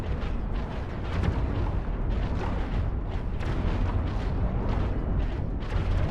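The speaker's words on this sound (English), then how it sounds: "Alright, now the lasers are firing." Ship lasers in the space game Cosmoteer fire continuously, a dense, rumbling barrage of overlapping bursts and booming pops that runs throughout without pause, loud and with no talk over it.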